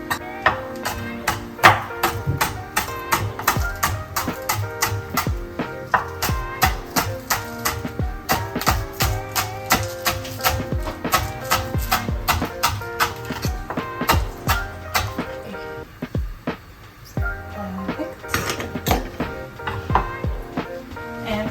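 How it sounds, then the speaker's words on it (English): A knife chops spring onions on a board in rapid, close, crisp taps, a long steady run with a brief pause near the end before the chopping resumes. "I'm gonna cut some spring onions"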